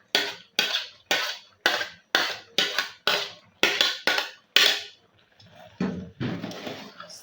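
A spoon stirring periwinkle into okro soup in a pot, about ten rhythmic scraping clinks at a steady pace, close and clear, then a few softer irregular scrapes.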